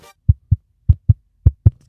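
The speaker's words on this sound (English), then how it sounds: "But while most pop-top Domi discs sound like this" Six dull, low knocks from tapping a pop-top disc golf disc, coming in close pairs, hollow and near with silence between them.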